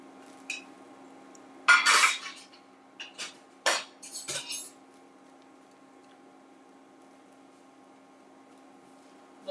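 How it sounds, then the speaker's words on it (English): Dishes and cutlery clatter into a dishwasher in a home kitchen during dinner cooking, a few sharp clinks and knocks in bursts over a low steady hum, then quiet. "Loading the dishwasher."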